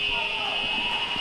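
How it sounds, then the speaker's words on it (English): A netball half-time buzzer sounds at a Fiji versus Scotland match at the Netball Europe Open Championships, a loud, steady electronic tone held across the whole moment with arena noise beneath. "Half-time buzzer sounds."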